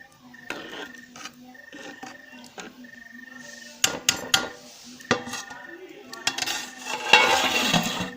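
Matar pulao being stirred and mixed in a cooking pot, with repeated clinks and scrapes of a spoon against metal, irregular knocks, and a louder clattering burst near the end over a steady low hum.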